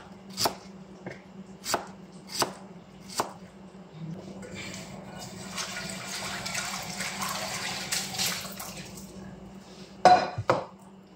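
A knife chops vegetables on a board for a provincial-style fish dish: a few sharp, evenly spaced chops up close, then a longer stretch of mixed kitchen clatter and running-water noise, ending with two more loud chops.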